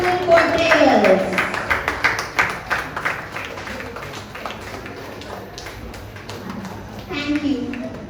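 An audience at a school stage event claps for young children walking on, a dense burst of applause that thins to scattered claps, with a few voices and a brief tone near the end.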